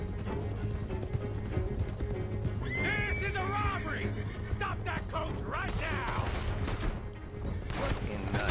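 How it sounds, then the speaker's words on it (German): A horse neighs loudly over steady galloping hoofbeats in Red Dead Redemption 2, with busy game sounds and a voice talking underneath throughout. "Mein Pferd ist ja ziemlich schnell."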